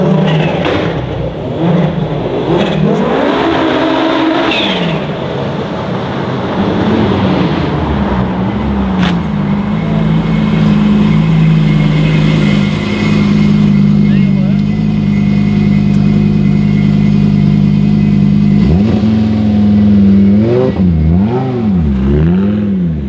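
Car engine at a carspotting meet in Oisterwijk firing up and revving, a steady loud drone with rising and falling pulls near the end, while people talk over it.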